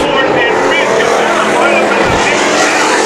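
Street stock race cars roar loudly and continuously around the Havasu 95 Speedway track, engines swelling as they pass, with a commentator's voice under the din.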